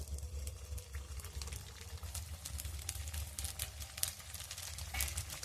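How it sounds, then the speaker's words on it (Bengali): Chicken and flour snacks deep-frying in hot white oil, a quiet continuous bubbling crackle with faint popping spatters and a low background hum, no voices. "তেলটা গরম হয়ে গেছে, নাস্তাগুলো ভেজে নেব"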